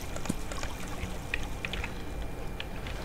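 Water flows and trickles steadily in the block-building game Minetest, a constant close liquid wash with a few small splashy ticks over it.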